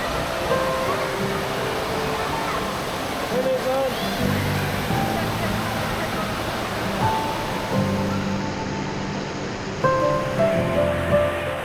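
Steady rushing of water circulating in an indoor water park's lazy river, a continuous broad wash with faint voices and echoing hall ambience mixed in.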